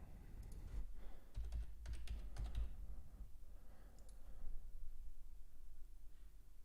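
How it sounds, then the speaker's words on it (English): Bursts of keyboard typing, clustered clicks early on, then sparse keystrokes and quiet background hum. "if you do hear typing, that is just me making other alerts in the room."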